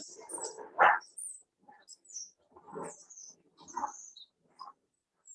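Short, high bird chirps repeat in scattered bursts outdoors, mixed with lower rustling and muffled noises, fairly faint overall.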